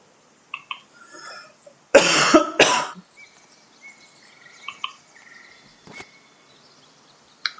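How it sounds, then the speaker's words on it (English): A pair of sharp, loud coughs in quick succession amid a quiet outdoor game ambience of soft bird chirps, insect calls and scattered small clicks. "A little cough."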